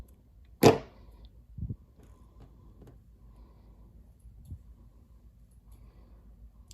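Craft material being cut for a Blupee figure: one sharp, close snip followed by a soft thump, then near quiet with faint handling noises.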